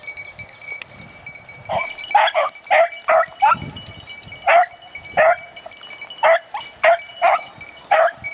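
A young beagle pup bays on a rabbit trail outdoors, giving a string of short, yelping, evenly spaced barks that come close and clear. Faint rustling sounds between the barks, and a voice is audible near the start.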